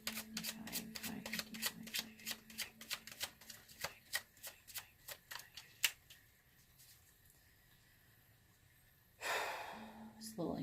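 Tarot cards being shuffled in a rapid run of crisp riffling snaps that gradually slows and thins out, followed by a brief voice near the end.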